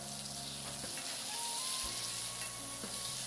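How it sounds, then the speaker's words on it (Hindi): Brinjals fry in hot oil, giving a steady, dense sizzle close up, with faint stirring movement beneath the continuous hiss. "उसी ऑयल में पहले मैं ब्रिंजल्स को फ्राई करके निकाल लूँगी."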